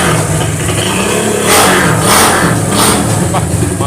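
An old Honda CB motorcycle engine revs hard, its clattering mid-pitched idle surging into several loud throttle blips in quick succession, close by, with someone talking over it.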